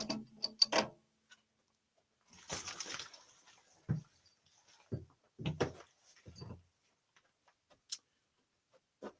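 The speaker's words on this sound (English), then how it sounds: "Now I'm going to swap my chuck" A woodturning lathe chuck being swapped for a Vicmarc chuck: scattered metallic clicks, ratcheting and clunks, close and separated by short silences.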